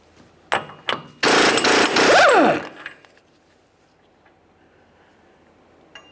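Impact gun or air tool spinning off a 36mm rear axle nut on a 2007-2013 Acura MDX, a loud sustained burst of a second and a half with short bursts before it, then quiet.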